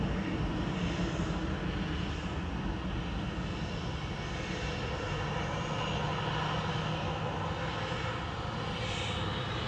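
An EasyJet passenger jet departs Manchester Airport with a sustained broad engine roar that holds steady at moderate distance, a continuous wash of aircraft noise with no speech over it.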